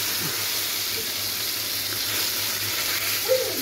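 Pieces of katla fish fry lightly in a pan one at a time, giving a soft, steady sizzle and hiss with faint occasional clinks, quiet and close, no talking.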